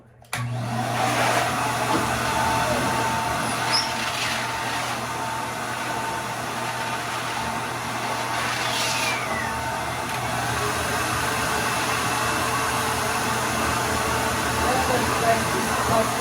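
A hair dryer blows with a steady whooshing hum for a long stretch, close and constant, drying parrots' feathers, with occasional faint background noises.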